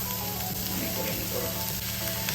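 Chopped onions sizzle steadily in a hot frying pan, a close, continuous crackling hiss with no voices.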